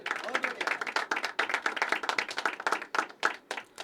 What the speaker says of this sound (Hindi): तालियां बजती रहनी चाहिए दोस्तों यार।